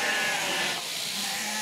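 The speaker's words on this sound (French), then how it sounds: "T'as certaines brebis qui sont nerveuses." Nervous ewes from a family flock of about 300 sheep on a Corsican farm bleat in a dense, continuous wavering chorus, loud and close with no talk over it.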